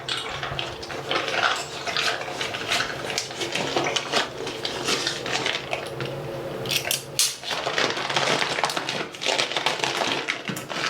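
Tap water rushes into a Scrubba wash bag holding cloth diapers, a loud, close splashing stream with crinkling plastic bursts and brief pauses as the bag shifts.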